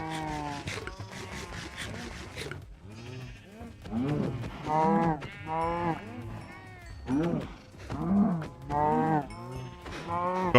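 Minecraft cows moo repeatedly in a string of drawn-out, tonal calls, several overlapping and swelling in loudness, fairly close and clear against quiet gaps.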